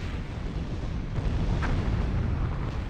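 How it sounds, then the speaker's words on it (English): Gauss cannons fire in the real-time strategy game Zero-K, booming rumbles layered with a sharp burst near the middle over a constant loud battle roar. "The Gauss cannons are taking care of anti-air stuff for us."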